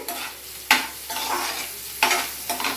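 Onions and turmeric stirred in a pan for a ridged gourd curry, a continuous sizzle broken by sharp scraping strokes of the spoon, two strong ones and a lighter third, close and fairly loud.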